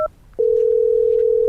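A telephone handset produces a steady, loud dial tone that starts after a brief keypress beep and holds unbroken to the end, with no talking.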